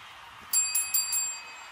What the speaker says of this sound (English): Oh, that's a bell!